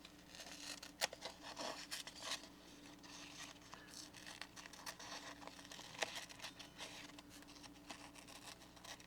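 Canary crossed-blade craft scissors snip quietly in a series of soft, irregular cuts with light crinkling between them, heard close up with no talk.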